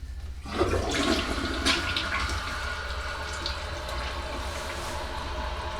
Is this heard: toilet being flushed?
yes